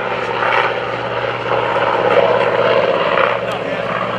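A Corsair warbird, a propeller fighter formerly of the United States Navy, flies past at an airshow with a droning piston-engine roar that swells and fades, while an announcer talks over it.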